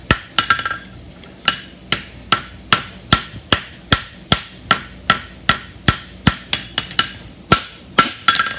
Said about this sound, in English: I'm fullering with the edge of my hammer into the corner.